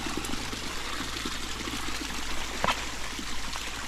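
Stream water trickling steadily over stones on a rainy hiking trail near Chaitén, a soft continuous wash with one brief sharper splash near the end, fairly close and without talk.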